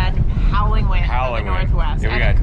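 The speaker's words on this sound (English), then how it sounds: "Howling wind. Northwest. Yeah, and cold wind." Cold northwest wind gusting at around 50 mph blows steadily and loudly across an outdoor microphone beside a small trout stream, a constant roaring rumble with a person talking over it throughout.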